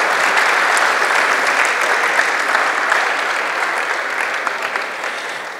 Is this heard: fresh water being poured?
no